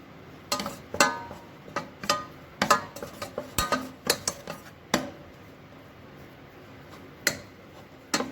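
Choux pastry dough stirred in a saucepan to dry it out, the utensil knocking and scraping against the pan in irregular sharp clacks, near and fairly loud, with quieter pauses in between.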